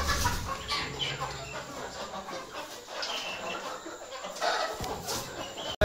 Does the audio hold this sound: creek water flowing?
no